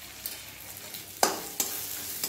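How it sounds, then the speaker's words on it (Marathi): Hadga flowers sauté with turmeric and green chili under a low steady sizzle. Two sharp bursts of sputtering and stirring scrapes rise close up, then fade back into the frying hiss. "आणि व्यवस्थित हे परतून घ्यायचं आहे"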